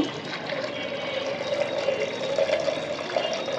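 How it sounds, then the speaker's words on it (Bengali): Water poured from a vessel into a pot of fish heads and chickpea lentils, a steady close rushing splash that holds throughout at an even level. "তো এখন আমি পরিমাণ মতো পানি দিয়ে দেব"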